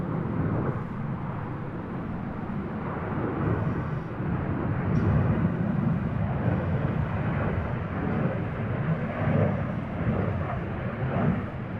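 Jet aircraft with Rolls-Royce engines flying over an air show at Seafair, a broad, steady rumbling roar held at constant loudness throughout, sounding distant and airborne with no talking.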